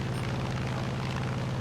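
World War II propeller fighter engines roar in the War Thunder video game, with an I-185 and a Yak-3 nearby in a P-47D-28 Thunderbolt match, as a continuous loud, dense droning rumble with no pauses and no voices.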